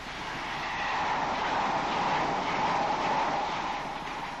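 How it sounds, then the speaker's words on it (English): A train pulls into Glasgow Central Station with a steady, broad rushing rumble and metallic hiss, loud and sustained throughout, with no voices. "the train pulled into Glasgow Central Station."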